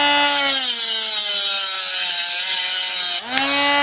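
A HILDA mini angle grinder cuts through a copper plate, a loud, steady high-pitched whine with a harmonic motor tone that dips briefly as the blade finishes the cut near the end, then spins back up.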